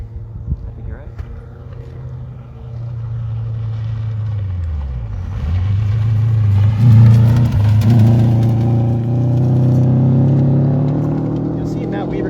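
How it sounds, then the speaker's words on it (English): A rally car on a gravel stage of the Mike Nagle Rally approaches and passes close by, engine rising in pitch and then falling as it goes by, with a loud revving roar that holds steady afterward. Commentators talk over it. "Yep, definitely hear a car coming."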